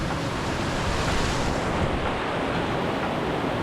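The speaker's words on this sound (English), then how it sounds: "the creek is ripping and I'm gonna have to jump it to get across" Fast, swollen creek in Hatcher Pass, Alaska, rushing loudly as a continuous, broadband roar of churning water, close by and steady with no voices over it.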